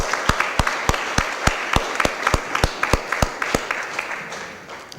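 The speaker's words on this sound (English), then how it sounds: "Let's give her one more big round of applause as she has this." Applause at a city Board of Aldermen meeting after the mayor's State of the City address, heard as a slow, regular series of loud, distinct claps under a softer spread of clapping.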